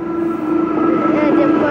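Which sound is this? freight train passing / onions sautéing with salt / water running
freight train passing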